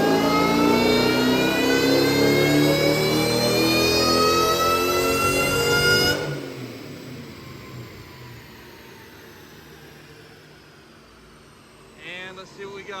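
A supercharged Saleen engine revs hard on a dyno, a loud rising whine and roar for about six seconds before dropping away to a low idle hum, with voices talking faintly near the end.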